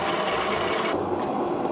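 Water boils inside an electric teapot with a dense, close, rasping bubbling hiss that shifts in tone partway through, with no talking.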